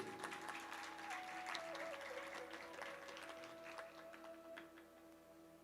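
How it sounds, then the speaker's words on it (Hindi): Audience applause at a Shrimad Bhagwat Katha religious gathering, dense steady clapping from a crowd that carries on throughout, with a faint tonal hum running underneath. "एक बार हमारे भीष्म और लीना बिटिया के लिए ताली बजा दीजिए भाई"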